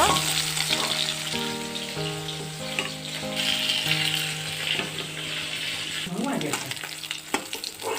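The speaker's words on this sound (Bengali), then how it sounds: "সব মাছগুলোই আমি কিন্তু সুন্দর লাল করে ভেজে নিয়েছি, এবারে তুলে নেব।" Fish frying in hot oil until reddened, a continuous hissing sizzle throughout, joined near the end by a few stirring scrapes, with music playing underneath.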